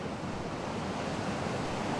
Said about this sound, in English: the waves at Kalbarri are pretty awesome